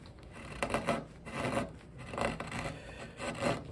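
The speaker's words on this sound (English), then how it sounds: "Here I started roughing that out, and just a matter of taking more gouges and getting that deeper." A carving gouge roughs out a wooden ball-and-claw foot for an 18th-century Newport card table, making faint, rhythmic rasping scrapes in repeated strokes with no talking.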